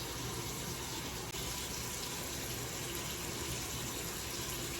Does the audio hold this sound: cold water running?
yes